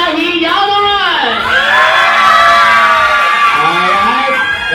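A crowd at a Jollibee children's birthday party breaks into loud cheering and shouting, many voices rising and falling together in long whoops, close and strong throughout.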